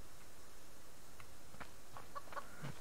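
A chicken clucks faintly in the survival video game Subsistence, a few soft, short clucks over a steady hiss of ambient background noise.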